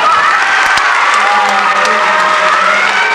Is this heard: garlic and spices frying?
no